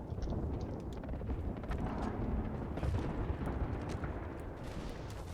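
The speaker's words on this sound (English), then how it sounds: "Signaling an airstrike." Airstrike in the Apex Legends battle royale game, a barrage of dull, booming impacts and rumbles rolling on continuously at moderate loudness, with scattered sharp cracks.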